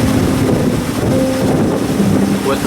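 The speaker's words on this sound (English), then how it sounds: "We've switched over obviously to motor sailing." Sailboat motor sailing on the coast with the sails out and engine running, a constant low engine drone under heavy wind rush and water noise, close and steady throughout.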